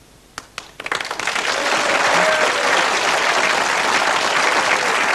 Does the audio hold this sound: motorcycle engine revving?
no